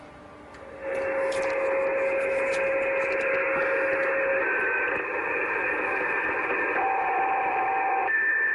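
Radio signals on 144 MHz received with a SunSDR2 PRO come through as a steady, hissing band of noise with faint sustained tones shifting in pitch, starting after a brief quieter moment and holding loud to the end.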